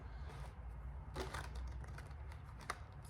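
Soft, quick riffling clicks of cards being shuffled, faint and close, in a quiet room with no voices.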